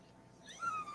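A newborn kitten, only a couple of days old, gives one short, faint, thin mew near the end, over quiet room noise.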